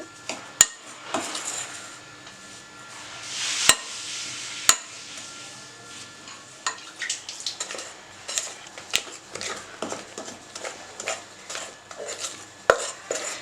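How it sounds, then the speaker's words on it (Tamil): Eggs, sugar and lemon juice mixed by hand in a bowl for cake sprinkles, with sharp utensil clinks and knocks against the bowl coming in irregular bursts, close and fairly loud, with no talking. "நம்ம நல்லா கலக்கிட்டே இருந்தோன்னா ஈஸியாக கலந்துரும்"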